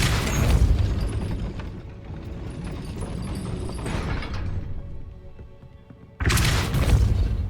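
In the Hogwarts Legacy video game, a heavy gate mechanism grinds and rumbles as it raises after a Depulso spell, with ratcheting clanks, a lull, then a loud renewed burst of grinding near the end.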